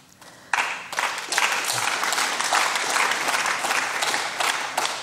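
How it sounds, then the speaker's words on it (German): Loud applause sweeps through a German state parliament chamber, bursting in suddenly and continuing as dense, close clapping from many members, with brief dips before building again. "Applaus"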